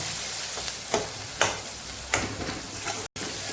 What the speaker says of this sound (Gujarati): તરત આપણે મસાલાને સાતળી લેવાનું છે